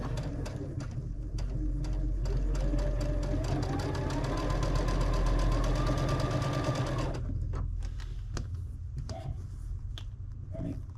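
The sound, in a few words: sewing machine stitching a baby quilt seam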